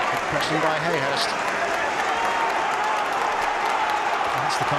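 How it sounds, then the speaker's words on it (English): Football crowd at a York City versus Fleetwood Town match cheering and applauding in a steady, loud roar heard from the stands above, with commentary talk over it throughout. "You hear the crowd down below us urging their team on."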